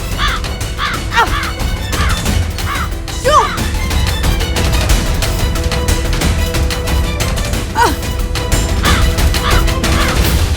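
A crow caws inside a house: repeated harsh, loud calls come in short bursts close by, over a steady musical backdrop.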